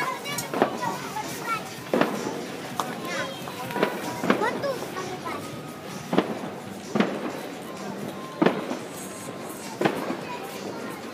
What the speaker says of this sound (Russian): Где-то салют.